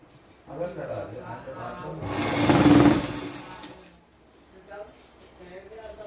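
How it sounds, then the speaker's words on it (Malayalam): A sewing machine stitches palazzo pants fabric in a short whirring burst that swells and fades in the middle, close by, with someone talking before and after it. "അകവും പുറവും നോക്കിയതിന് ശേഷം നമ്മൾ സ്റ്റിച്ച് ചെയ്തെടുക്കുക"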